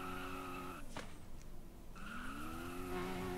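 Car tires drifting in the Prodigy Drift video game: a sustained high tire squeal over a steady engine drone, breaking off briefly in the middle and then resuming as the engine pitch climbs.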